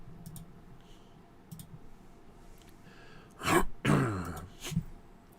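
A man clears his throat a few times, a rough burst followed by shorter harsh rasps, close and fairly loud against a quiet room with faint clicks earlier.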